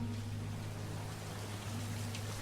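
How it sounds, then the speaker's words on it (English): Steady rain falling on a night street in Cape Town, South Africa, 1976, during the intro of the video game Beautiful Desolation, an even soft hiss with a low steady hum beneath, no voices. "There's rain falling"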